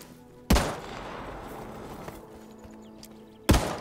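Two sharp gunshots in the video game Hawked, spaced about three seconds apart, each a loud broadband crack over a low ambient background.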